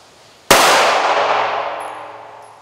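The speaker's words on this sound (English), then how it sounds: "as soon as I put the pressure onto that lever, it cocks the striker and I am live." A single sharp metallic clang as the squeeze-cocking lever of an HK P7 pistol cocks the striker, with a long ringing decay afterward, close and alone.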